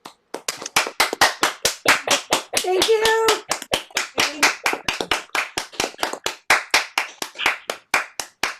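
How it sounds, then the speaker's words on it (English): A small concert audience claps for the artists, a patter of individual hand claps in a quick, uneven rhythm, close and clear, with a brief voice speaking over it midway. "a final round of applause for all of the artists"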